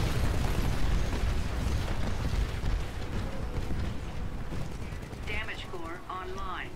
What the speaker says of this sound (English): he's just been taken out by Hatred Remains with the 40mm cannon.